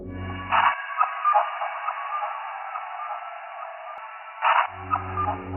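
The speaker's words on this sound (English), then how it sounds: "technological radio comms" Crackly radio communication samples from Fallout's music, bursts of band-limited, static-laden transmission with chirps and tones, sitting on a sustained low synthetic drone that drops out in the middle and returns.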